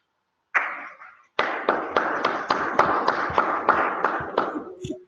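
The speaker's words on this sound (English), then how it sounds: "I love the applause" Audience at an African entrepreneurs' pitch event gives applause after a team presentation: a short burst, a brief pause, then steady rhythmic clapping that thins toward the end, close and fairly loud.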